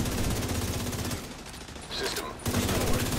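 Gunfire from The Division plays in rapid bursts of automatic shots during a Legendary mission in the District Union Arena, loud and dense, briefly easing mid-way before resuming, with someone talking over it.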